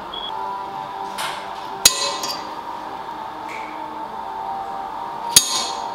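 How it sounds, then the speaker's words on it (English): An automatic center punch strikes the metal of a crash bar twice, each a sharp, bright metallic snap several seconds apart over a quiet room hum. "It's a center punch, automatic center punch."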